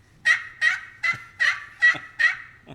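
A duck call blown in six evenly spaced, short nasal quacks, loud and close with no talk, during a waterfowl hunting lesson.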